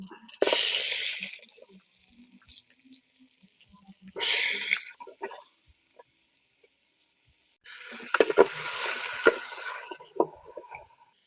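Chicken hits hot oil in a pan in bursts of loud sizzling, three separate spells of crackling and hissing with quiet stretches between, the last one longest.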